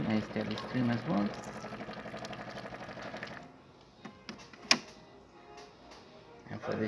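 A DeLonghi espresso machine with a pump buzzing as hot water streams from it, a steady mechanical hum for a few seconds before it quiets to faint clicks, with a voice speaking over it.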